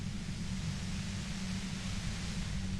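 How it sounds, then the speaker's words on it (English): A white noise effect from the video game Disco Elysium: a soft, steady hiss of static with a low rumbling layer underneath, unbroken and even throughout. "You hear through the white noise."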